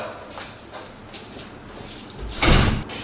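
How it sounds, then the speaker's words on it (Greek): A door bangs shut near the end, a single loud slam after a stretch of quiet room noise. "Κλείς την πόρτα, μωρή."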